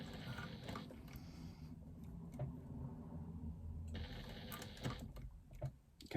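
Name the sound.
sewing machine top stitching a fabric connector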